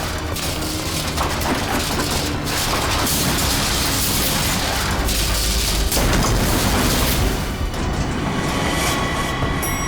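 A gunshot-style effect inside a lift in a CID TV crime serial comes across as loud, heavy booming blasts and rumble that run continuously through the whole stretch, with no voices.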